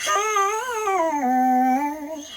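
A sustained vocal tone shifted to sound small and childlike, wavering slightly in pitch and dipping before rising again, with a thin, processed quality.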